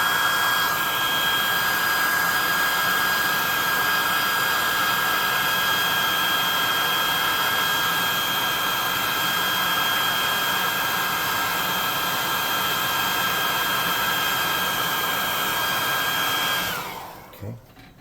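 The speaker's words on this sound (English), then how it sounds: "hot air gun to burn him. Low heat." Hot air gun on low heat blowing over a painted tabletop miniature, a steady close-up whooshing hiss with a faint high whine that runs unbroken before shutting off at the end.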